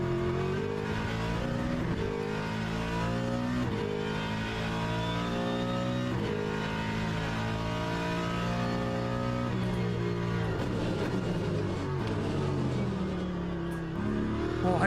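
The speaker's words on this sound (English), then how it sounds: "More hypercars incoming." Race car engines at Spa in an endurance racing game, including a Ford Mustang LMGT3 and passing hypercars, drone and rev steadily with repeated gear shifts rising and falling over nearly fifteen seconds.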